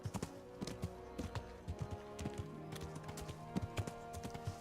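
Steady clip-clop of horse hooves in the video game KCD, a regular trotting rhythm of sharp knocks over a low background drone.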